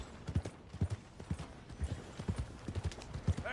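Horse hooves clip-clop steadily on the ground in Red Dead Redemption 2, a Fox Trotter dapple pinto walking in an even rhythm, close and moderately loud, with no talk over it.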